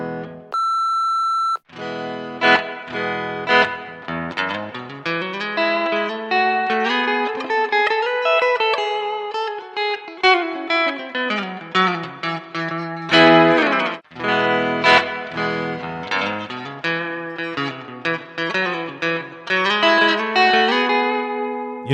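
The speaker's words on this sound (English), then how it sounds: "Just for this being the neck pickup, it still sounds super plinky." Phred Instruments SB500 bass guitar on the neck pickup through a cab simulator with reverb, playing a continuous, close melodic line of bright, plucked notes and slides after a short opening tone.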